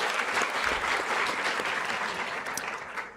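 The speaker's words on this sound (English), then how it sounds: "Give her a round of applause." Audience applause at a university public lecture fills the space with steady, dense clapping, loud at first and tapering slightly toward the end.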